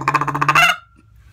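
A hand-blown sandhill crane call gives a single rattling, honking croak lasting under a second, loud and close, then cuts off into near silence.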